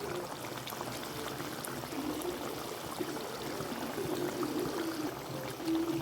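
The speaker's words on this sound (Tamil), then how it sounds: "கொதிச்சதுக்கப்புறம் நம்ம எக்கு சேர்த்துக்கலாம்." Hotel-style egg gravy bubbles in a pan as eggs go in, with a soft, continuous simmer and faint liquid splashes close by.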